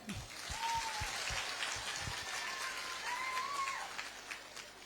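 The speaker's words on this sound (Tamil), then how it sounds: "உங்களுக்கு தான் முதல் கைத்தட்டல்" Applause from an audience gathered at a women's rights campaign rally in Kunnam, Perambalur district, a steady broad clapping wash with a few louder nearby claps, filling the whole stretch.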